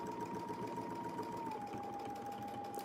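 A sewing machine stitches steadily as a Westalee ContiClip quilting ruler setup guides one side of the seam, a close, continuous motor whir with a sustained tone holding throughout.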